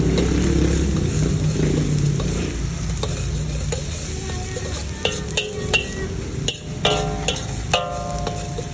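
Onion and garlic sizzle and fry steadily in a deep wok or pan, with a stirring utensil scraping and clinking against the metal in short, sharp taps near the end.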